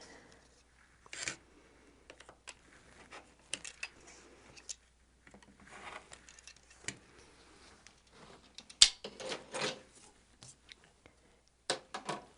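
Quilt border fabric for a Double Wedding Ring quilt being cut while held down firmly, a sparse series of quiet close snips and scrapes with one sharper crisp cut, and stretches of near silence between them.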